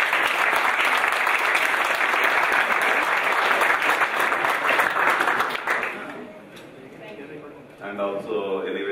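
An audience applauding the Microsoft team at a Hyderabad urban hackathon, dense sustained clapping that fades out after about six seconds, followed by a voice speaking.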